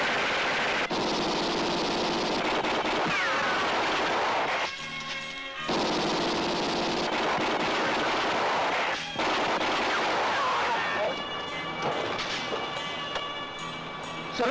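Gunfire during a shootout in a Filipino action film, with dense, continuous loud bursts of shots and impacts that briefly drop out twice before resuming at full intensity.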